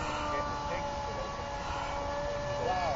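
A Prizm Hex RC aircraft with carbon rod framing flies an outside loop, its motors giving a wavering, whining buzz with pitch that slides and sweeps as it maneuvers, steady and moderately near.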